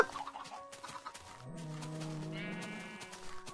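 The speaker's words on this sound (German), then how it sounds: "So rennen hier vier kleine Hühner rum." Chickens cluck and squawk in Minecraft, several short calls in quick succession followed by a longer bleating cry, heard clearly over quiet game background.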